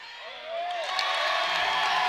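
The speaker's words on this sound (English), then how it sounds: "And the crowd erupts" A high school girls' basketball crowd cheering and whooping in a gym, swelling from quiet to a loud sustained roar, with a voice briefly over it.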